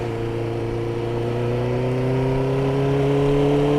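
A motorcycle engine, ridden by a beginner, pulls off as the clutch is released and throttle is applied; a loud, close, steady drone climbs gradually in pitch, with no talking.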